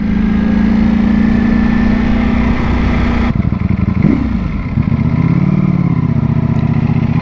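A 2022 Ducati Panigale V4S motorcycle engine runs at a steady, loud drone, then its pitch drops and rises in a couple of throttle blips, close by and alone.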